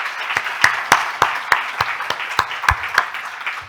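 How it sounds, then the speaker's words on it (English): A small audience at a World Health Organization European Region youth health meeting gives a round of applause, with a modest number of distinct, fairly loud hand claps at an uneven pace, fairly near. "I'm going to ask for a round of applause for Clara before she continues."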